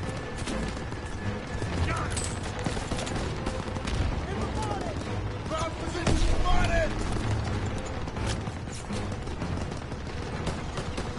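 Rapid machine-gun bursts and scattered gunfire with booms ring out in a World War II battle in a Call of Duty video game, dense and continuous under shouted voices.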